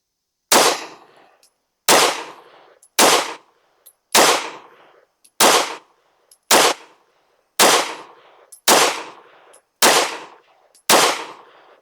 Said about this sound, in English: Let's shoot a 10-shot group at the right middle target.